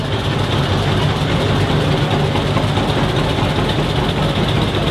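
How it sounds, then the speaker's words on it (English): A 1951 John Deere G tractor engine running in a parade, giving a loud, steady, low mechanical drone with a rapid throbbing pulse that continues unchanged from start to finish. "here's Dan Slifer from Big Rock with a 1951 John Deere G"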